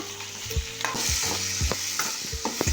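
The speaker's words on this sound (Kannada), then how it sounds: "ಇದನ್ನು ಸರಿಯಾಗಿ ಫ್ರೈ ಮಾಡ್ಕೋಬೇಕ್ರಿ ನೋಡಿರಿ ಈ ಥರ ಫ್ರೈ ಆಗ್ಯದ" Chopped onions fry in a pan for a green banana kofta curry: a steady close sizzle with repeated scraping stirs of a spoon, and no voices.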